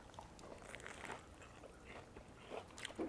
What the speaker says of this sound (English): Crunchy, crispy, and delicious with a big shrimp flavor.